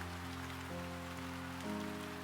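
Steady rain falls through a video game scene, a continuous soft hiss running beneath sustained musical tones that shift pitch a couple of times, with no voices.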